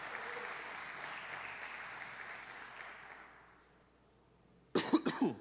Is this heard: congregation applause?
yes